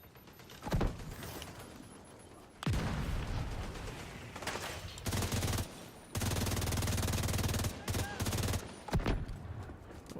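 Mortar fire and gunfire from The Division 2 video game erupt in loud sustained machine-gun bursts and heavy blasts, broken by short quiet gaps between volleys.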